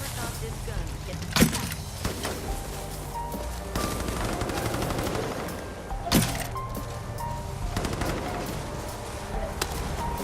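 Gunfire from a gun in Far Cry 5, with a few sharp loud shots spaced several seconds apart over busy game ambience and background chatter.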